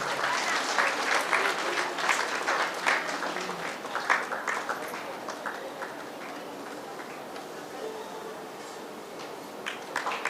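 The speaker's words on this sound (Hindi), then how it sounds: "ताली बजाते रहें।" A crowd at a Good Friday church gathering claps steadily for several seconds, dense and close at first, then thinning out toward the end.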